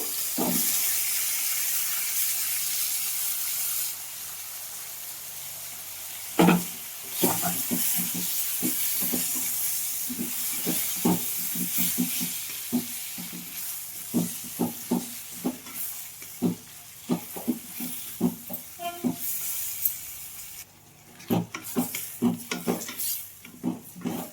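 Browned onions and tomatoes fry for a tomato egg curry in a pan, giving a loud, close, continuous sizzle and hiss. Repeated scraping and knocking stir strokes come in uneven bursts.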